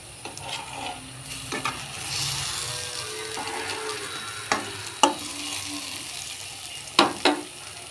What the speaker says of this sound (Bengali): বড়াটা অন্য পিঠটা ভাজার জন্য উল্টে দেব।